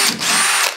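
A short, close burst of a cheap Chinese power drill loosening a screw, under a second long, loud and high-pitched before it stops.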